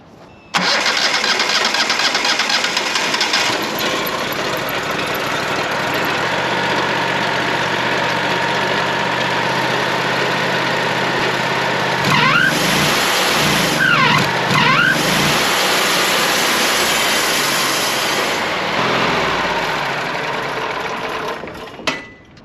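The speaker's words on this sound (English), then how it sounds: "let's find out if the mill still runs" A Wood-Mizer LT40 sawmill engine cranks and catches, then runs steadily at a loud mid-pitched idle with a brief rise in revs partway through before settling and cutting off at the end.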